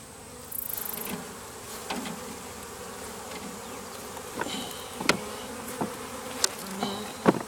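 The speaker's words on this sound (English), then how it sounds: "There's just a handful of bees." A handful of bees buzz near a hive, a soft steady hum with occasional closer fly-bys and light taps of hive handling.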